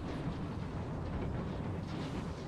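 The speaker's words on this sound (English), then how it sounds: "Oh, the sound of their cannons." Cannon fire in the video game Napoleon: Total War rolls as a dense, continuous low rumble of distant artillery, steady and booming without distinct separate shots or talk.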